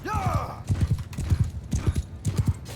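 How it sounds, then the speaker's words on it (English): A horse in the Mount & Blade II Bannerlord battle game gives a brief whinny, then its hooves clip-clop in quick rhythmic pairs, close and fairly loud, with faint battle din behind. "There's always a horse in the way."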